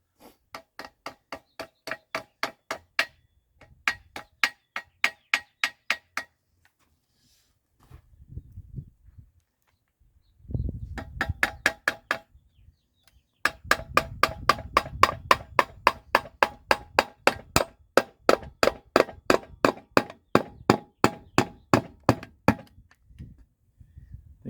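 Repeated sharp hammer strikes ring out on a car part in quick bursts, separated by pauses and some low rustling or shuffling between series.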